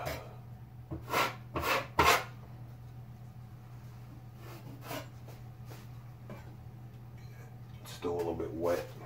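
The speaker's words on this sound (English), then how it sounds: "But these pieces, you can kind of just scrape them off." Drywall compound pieces being scraped off a water-damaged ceiling during repair, a few short rasping strokes near the start and more at the end, over a steady low hum and with quiet gaps between.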